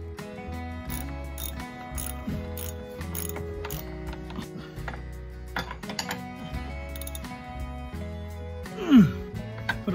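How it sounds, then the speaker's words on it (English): A wrench ratchets with quick repeated clicks as it tightens nuts on a SeaStar steering ram during seal replacement. The clicks sit close and steady under a tonal musical background, with a brief louder metallic scrape near the end. "Put a wrench on the opposite side to tighten it down"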